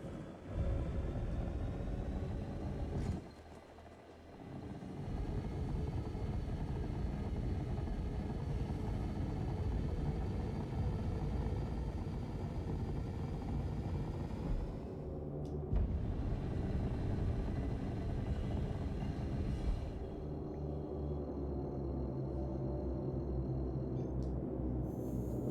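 Spaceship engines in Star Citizen rumble loud and steady as the craft takes off and flies, with a brief dip early on and shifts in the drone later.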